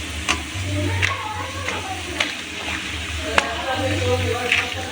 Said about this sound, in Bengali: এবার আমি একটা অরেঞ্জ কালার পাঁপড় দিয়ে দিলাম, দিয়ে এটাও ভেজে নেব।